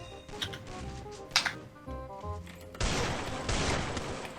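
Gunfire in the shooter game Free Fire: quick volleys of shots come in short clusters, then a denser burst follows, moderately loud over game music and effects, with no talk.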